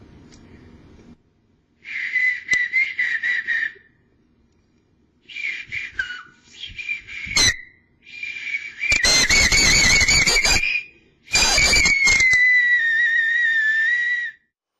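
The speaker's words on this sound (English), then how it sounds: "I can pull my bottom lip a little bit lower, and that still will allow me to whistle" Loud, sustained human whistling made with the bottom lip pulled lower, in several long tonal bursts separated by short pauses, with pitch glides and a bright, steady tone, alone and close.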